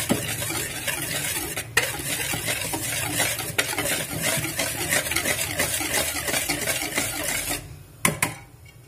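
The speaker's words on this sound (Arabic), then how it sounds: "دلوقتي انا هقلب المقادير بتاعتي كويس جدا" A spoon stirs a bowl of dry fried-chicken coating of flour mixed with starch, giving a steady close scraping and rustling that runs continuously, then stops with a couple of knocks at the end.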